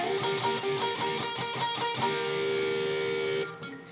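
Electric guitar at full tempo through part 3 of a solo, rapid repeated double-stop picking for about two seconds, then a held, slightly distorted note that rings and decays, with no talking.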